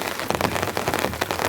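Rain patters densely on a tarp stretched over a tent during a storm, a close, loud, irregular drumming of drops with no voices.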